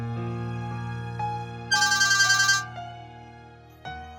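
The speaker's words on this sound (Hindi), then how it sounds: "इरफान का फोन है" A phone rings with a melodic ringtone over a sustained low musical drone, a series of chiming notes with a bright rapid trill in the middle, loud and close with no talking.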